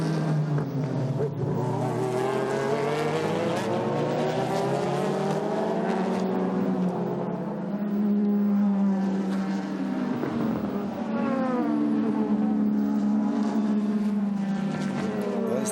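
Super GT race cars circle the Autopolis circuit, engines droning and sweeping in pitch as they pass, a continuous loud roar of several cars with rising and falling revs and no talking over it.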